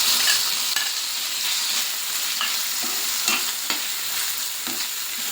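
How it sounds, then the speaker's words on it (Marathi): Onion and chopped tomato sautéing in a pan for matar kheema, a steady close sizzle with scraping stir strokes recurring throughout, no voices. "कांदा जो आहे तो आपल्याला चांगला तांबूस रंग येईपर्यंत परतून घ्यायचा आहे"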